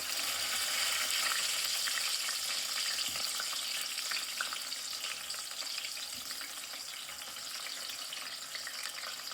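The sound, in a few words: tomatoes, onion and garlic frying in hot oil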